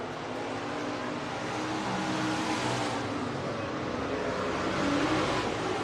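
Stock cars race at Buena Vista Raceway heading into turns 1 and 2, a steady, loud roar of multiple engines droning continuously with a slight swell near the end.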